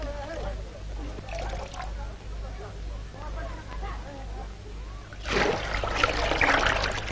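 Water from a big leather bag pours into a stone channel, a rising gush and splash that follows a faint trickle, heard under a narrating voice.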